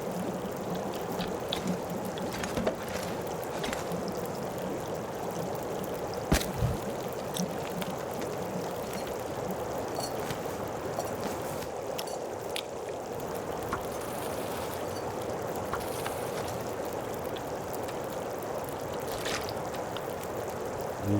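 Storm in the video game Custom Gunloper at Bleak Inlet, with continuous rushing rain and water noise at an even level, broken by a few sharp clicks and knocks.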